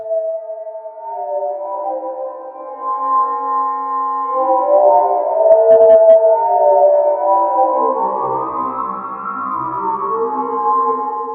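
A granular effect patch built in Bitwig's FX Grid, smeared tonal layers that glide and bend in pitch, swelling louder midway with a brief grainy flutter, synthetic and echoing throughout.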